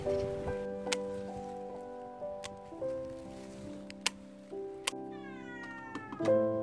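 A cat meows repeatedly in a home kitchen while shrimp is being cleaned, several drawn-out, insistent cries close by, with faint clicks and background noise.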